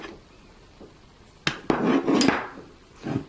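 Bolt being removed from a Ruger Mark III 22/45 pistol: a few sharp metallic clacks and knocks, close and loud, with a short sliding scrape between them and no talk.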